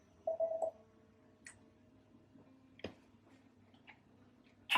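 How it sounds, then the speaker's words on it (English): Instagram notification chime on a phone, heard as a short rapid cluster of bright electronic tones, followed by faint scattered clicks and ticks in a quiet room. "Instagram notifications are a weird noise now."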